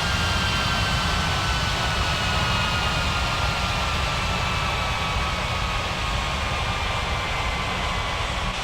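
Jet aircraft engines hum in an airport simulation game as a plane taxis to the gate, a loud, steady whine and rumble with a faint sliding tone, continuous throughout.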